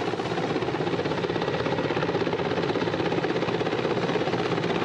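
An Mi-14 amphibious helicopter, an anti-submarine, minesweeper and rescue type, flies in a steady, loud, continuous rotor and engine roar that holds level with no pauses.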